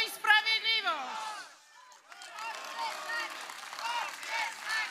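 A crowd at a Law and Justice party rally in Poland breaks into broad, sustained applause and noise. A speaking voice comes first, then a brief lull, then continuous clapping and crowd noise fill the rest.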